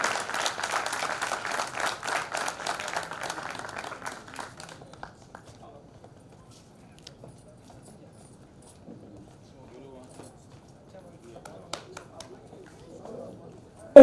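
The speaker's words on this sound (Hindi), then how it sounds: "सभी लोगों से चल रहे बहुत जोरदार तालियों से स्वागत किया जाए" Applause welcoming a guest at a Kargil Vijay Diwas commemoration event: dense crowd clapping for about four seconds that fades out, followed by quieter hall ambience with scattered faint sounds.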